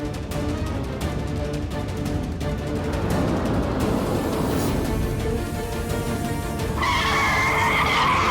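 A car driven hard skids with squealing tires, a loud, sustained screech over engine noise that shifts in pitch toward the end, with no voices.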